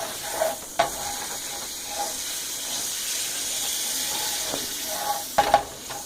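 Margarine sizzles in a hot frying pan, a steady close hiss running throughout, with a few light clinks and scrapes near the start and again near the end.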